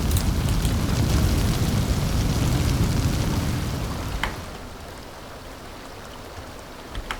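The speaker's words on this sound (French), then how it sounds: "heureusement, vu qu'il pleut" Steady hiss of rain in a video game, heavy at first and then easing to a lighter patter, with a few sharp drips standing out near the end.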